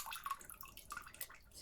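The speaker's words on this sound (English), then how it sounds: "And then afterwards just pour it out into your glaze." Liquid glaze is poured out of a pottery piece back into a glaze bucket, giving faint, soft splashing and dripping with irregular trickles throughout, quiet and close, with no talk.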